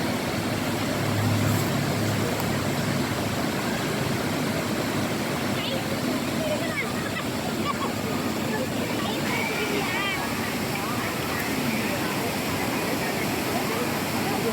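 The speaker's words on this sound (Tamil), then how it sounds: "இந்த தண்ணி தான் மணிமுத்தாறு டேமுக்கு போய் கலக்குதுங்க." A stream on the way to Manimuthar dam rushes steadily and loudly, a constant broadband roar of flowing water with no breaks, with faint voices now and then beneath it.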